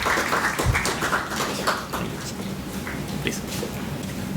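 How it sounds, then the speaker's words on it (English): Audience applause fills a conference hall after a professor is introduced at a pension and investment talk, a steady, dense wash of clapping at moderate level with some voices mixed in. "Please give a round of applause for Arun"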